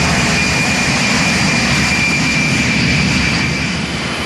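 Airliner jet engines spooling back up to thrust during a landing approach, a loud, continuous broadband roar with a steady high whine running through it, heard alone.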